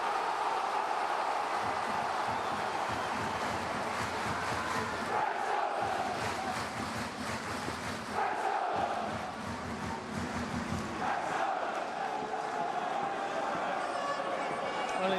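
A home football crowd roars continuously at Wrexham's Racecourse stadium during a Championship match against Coventry City, a dense, loud wall of chanting and noise with surging swells, no clear talk.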